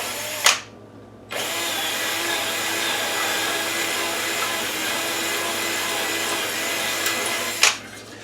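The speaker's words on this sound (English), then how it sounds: "the only reason I'm drilling these rivets out" A power drill whines steadily at close range for several seconds drilling out rivets on a kiln, starting after a brief clatter and ending with a sharp knock.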